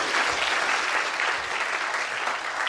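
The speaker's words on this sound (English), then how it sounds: "So a round of applause for our volunteer, please." A lecture audience applauds a volunteer at a 2025 science lecture, with a thick, sustained wash of clapping throughout and no pause.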